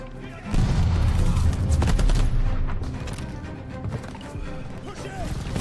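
Rapid machine gun fire and explosions in Call of Duty: Vanguard World War II combat, dense and loud throughout, with shouted voices mixed into the battle noise.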